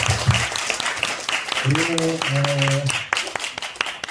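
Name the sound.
church congregation applauding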